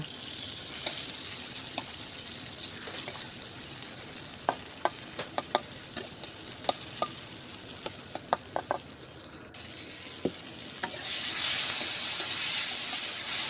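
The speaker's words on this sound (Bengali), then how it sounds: "এটা একটু উল্টিয়ে পাল্টিয়ে ভালো করে একটু ভেজে নিব" Chopped tomatoes fry in oil with onion, garlic and chili, a steady sizzle broken by repeated sharp scrapes and clicks of stirring, growing into a louder hiss toward the end.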